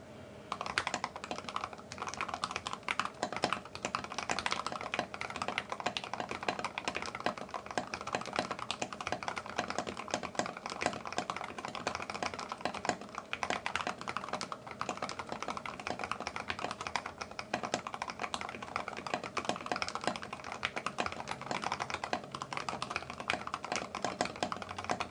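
Fast, continuous typing on a NEO Keys G67 mechanical keyboard in a Palette acrylic case, a dense run of crisp, close key clacks with an uneven rhythm lasting the whole stretch, no talking.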